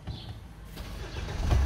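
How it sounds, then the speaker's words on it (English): A 2015 Hyundai Santa Fe's engine starts with a push button, cranking briefly and then settling into a steady, rising idle at close range. "start the vehicle up"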